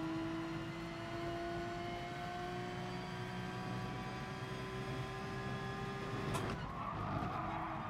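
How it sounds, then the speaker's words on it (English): Race car tires squealing as the car drifts on a dirty track in GT Sport, a sustained tonal whine over engine roar that slides downward, then a sharp scrape and rougher noise near the end. "Oh, we're drifting dirty"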